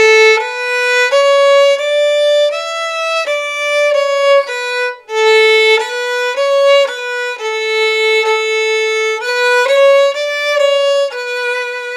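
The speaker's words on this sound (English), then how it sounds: "If you play with full hair, you sound like this." Violin played with the full width of bow hair, a clear melodic phrase of sustained, connected notes at a full, strong volume, played solo.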